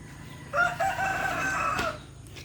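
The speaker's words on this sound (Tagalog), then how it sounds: "So meron din kaming Rhode Island chicken." A Rhode Island chicken rooster on a farm gives one clear, drawn-out crow at moderate distance, rising then trailing off, over a low outdoor background with no talking.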